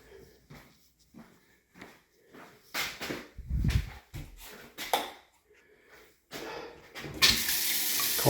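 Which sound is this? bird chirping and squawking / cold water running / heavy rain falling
cold water running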